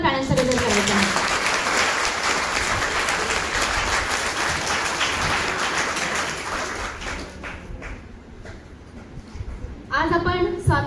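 A large audience at a Marathi speech event bursts into loud, sustained applause, a dense wash of many hands clapping that fades toward the end before a voice briefly cuts in.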